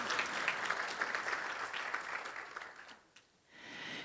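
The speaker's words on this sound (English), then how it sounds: "how about a nice round of applause for Chief Pate?" At an annual community meeting, a crowd gives dense, steady applause that slowly thins over about three seconds, and then a brief burst of higher clapping follows.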